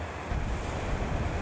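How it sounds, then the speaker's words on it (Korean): Rushing water from Yongyeon Falls in Juwangsan National Park in winter, a brief, steady, low-level roar with a rumbling low end and no voices. "용영폭포를 지나"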